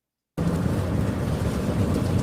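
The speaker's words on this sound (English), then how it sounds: "because it's raining where I'm at" Rain falling, a dense steady hiss that starts abruptly after a brief silence and continues evenly and loudly to the end, with no voice.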